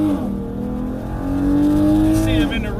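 A Dodge Challenger V6 accelerates hard from inside the cabin while racing a GT Mustang, its engine note droning and rising steadily, with someone talking over it.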